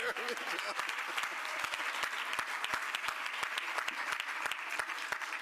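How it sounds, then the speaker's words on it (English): An audience applauds a tax commissioner at a summer youth internship program celebration, steady dense clapping from many hands that holds evenly throughout without talk. "let's give him a round of applause"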